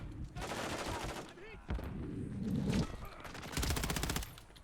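Bursts of rapid automatic gunfire in the video game Call of Duty Modern Warfare, several separate volleys heard up close in quick succession, with a voice shouting in between.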